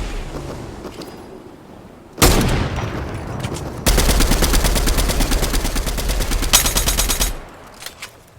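Rapid gunfire in a multiplayer shooter video game, dense bursts of automatic fire starting after a quiet stretch and continuing for several seconds before fading, with occasional scattered shots at the end.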